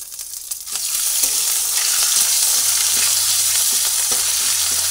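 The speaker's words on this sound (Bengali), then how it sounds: "আদা অল্প ভাজা হচ্ছে, আগে কাঁচা গন্ধটা চলে যাওয়ার জন্য অল্প ভেজে নিচ্ছি" Ginger sizzles in hot oil in a pan with ground coriander and cumin, a steady loud bubbling hiss broken by a few soft stirring scrapes, with no one talking.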